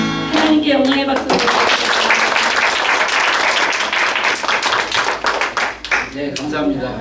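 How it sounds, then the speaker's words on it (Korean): A church congregation claps loudly and steadily through most of the span, a dense sustained wave of applause that begins after a singing voice and gives way to voices near the end. "하나님께 영광의 박수"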